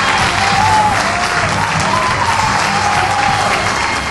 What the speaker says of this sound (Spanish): Muchas gracias, el aplauso para eso.